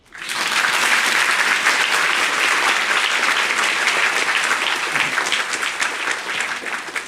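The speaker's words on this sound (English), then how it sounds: "Another honoring round of applause." A concert audience gives a round of applause, dense clapping that rises quickly and holds strong and steady, easing slightly toward the end.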